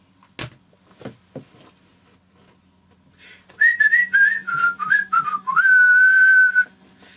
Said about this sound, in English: You've got the firing sound effect